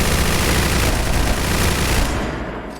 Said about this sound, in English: I'm doing some third-person shooting